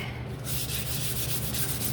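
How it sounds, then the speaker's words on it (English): Light hand sanding of the top coat on a wooden door hanger, a steady close scratchy rubbing that swells after a brief quieter start and continues evenly, no voices. "So it just needs a light sand."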